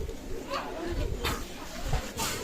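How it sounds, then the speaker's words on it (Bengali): A Kasuri pigeon, a Pakistani breed, gives soft, low cooing calls close by, a few rounded coos against steady background noise and faint voices. "অসাধারণ কাশুরি কবুতর"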